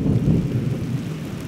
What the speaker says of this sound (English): And hey, it brought rain.